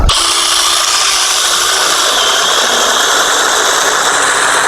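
A small chainsaw runs steadily at high revs, loud and close, buzzing continuously as it cuts through wood.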